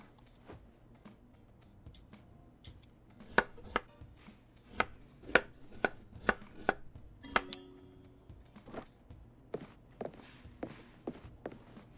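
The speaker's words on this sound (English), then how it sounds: "we can cut another shallot." A knife chops a shallot on a board in the Chef Life restaurant simulator video game, a series of crisp, evenly spaced thuds rising in a quick run midway over a quiet background.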